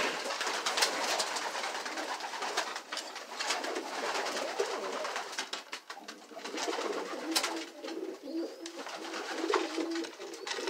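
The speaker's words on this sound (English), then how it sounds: "It's Pikes Peak Homing Pigeons." Homing pigeons at a club loft in Colorado coo softly and steadily, layered over a constant bed of rustling, chattering bird noise, close and continuous with no voices.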